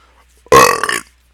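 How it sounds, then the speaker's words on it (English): A single loud, close burp lasting about half a second, deep and throaty, after drinking keto coffee, with quiet around it. "Thank you for allowing me to burp."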